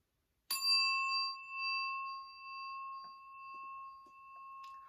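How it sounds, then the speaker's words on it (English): A single small bell is struck once, giving a clear bright ring that sustains and slowly fades over several seconds in a quiet room, with a few faint soft taps after it. "let's ring the bell"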